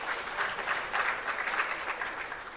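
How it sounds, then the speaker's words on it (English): An audience at a launch event for 4IR centres of excellence gives a sustained round of applause. It is a dense, even wash of clapping from a crowd at moderate distance, with no one speaking over it. "Let's give him another round of applause."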